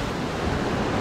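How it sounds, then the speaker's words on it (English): Ocean surf of roughly 2 to 3 foot waves breaking on a fishing beach, a steady broadband wash with no distinct crash, near and continuous, mixed with some wind noise and no talking. "Waves around 2 to 3 feet."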